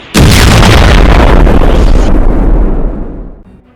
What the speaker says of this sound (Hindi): तभी हम देखते हैं उसके ट्रांसफॉर्मेशन की पावर की वजह से एक धमाका होता है बहुत बड़ा